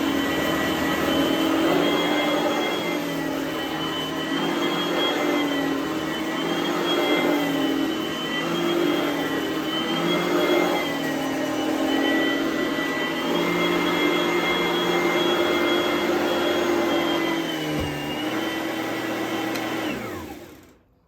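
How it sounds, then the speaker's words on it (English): An Oreck Elevate Conquer upright vacuum runs with a steady, loud motor drone and a faint crackle from the cleaner head, then winds down and cuts off at the end. "it almost has like this Rice Krispie sound to it in the cleaner head somewhere"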